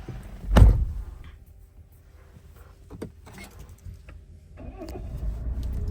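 A Tata Harrier XZA Plus AMT Dark Edition SUV gives one sharp, loud thud up close, then goes nearly quiet before its engine catches and settles into a steady low running hum.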